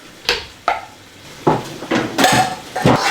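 Metal utensil scrapes and clanks against a wok while green curry paste is stirred into reduced coconut milk, a run of sharp, close knocks and scraping strokes in uneven rhythm.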